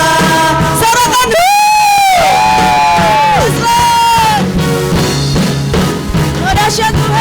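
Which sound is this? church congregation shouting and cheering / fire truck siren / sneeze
church congregation shouting and cheering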